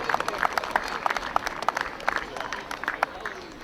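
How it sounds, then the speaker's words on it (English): Applause from a crowd at a Little League baseball and softball opening day, a steady patter of many hands clapping with sharp individual claps standing out, continuing throughout at moderate volume. "Again, a round of applause for those folks who spent a lot of time and energy in our program."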